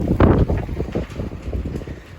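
Strong wind on a dairy farm in Japan buffets the microphone in continuous, gusty low rumbles and pulses that rise and fall for the whole stretch, with no voices.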